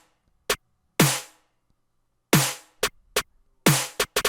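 Four hyperpop snare samples from the CM Spark ethereal kit, layered in a sparse pattern: sharp bright cracks with airy tails, some short clicks and some longer decays, heard alone and close.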